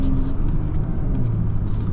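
A Mercedes-AMG GLE 53 engine hums steadily from inside the cabin as it drives along a curvy back road at night, a continuous low drone with a faint rising note.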